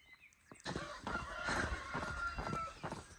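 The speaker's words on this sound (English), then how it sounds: "Got the roosters crowing." Roosters crowing loudly in the morning on Tenerife in the Canary Islands, a long drawn-out crow with overlapping calls and clucks close by, no talk.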